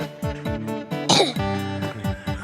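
A single sharp cough bursts out close by over steady rhythmic background music with a regular beat.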